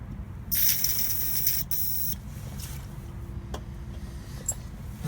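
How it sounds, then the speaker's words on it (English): WD-40 aerosol sprayed onto the anti-roll bar link of a Nissan Micra K12, a loud hissing burst of about one and a half seconds, then a shorter puff, over a low background rumble. "Put some WD-40 on that."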